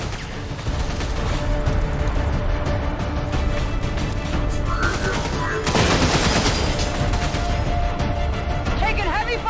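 Heavy, continuous gunfire from the video game XCOM 2 roars loud and close throughout, with a bigger burst mid-way and brief voices beneath the barrage.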